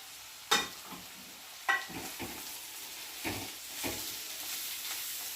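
Capsicum pieces frying over onions in a pan, a soft steady sizzle broken by several sharp scraping strokes of a spatula stirring the vegetables.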